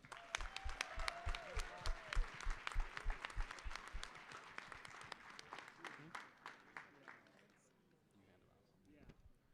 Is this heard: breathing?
no